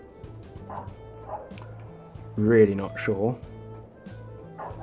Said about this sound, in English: That's my dog going mad outside.